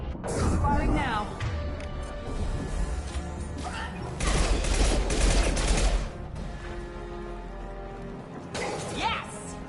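Video game gunfire and explosive bursts come in heavy waves, loud and dense at the start and again midway, with people talking underneath.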